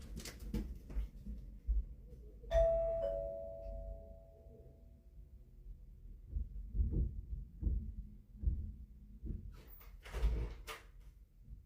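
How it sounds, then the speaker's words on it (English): A doorbell at home gives a single two-tone chime, clear and moderately loud, followed by soft muffled thumps and knocks like a door or cupboard. "Oh, my doorbell's ringing."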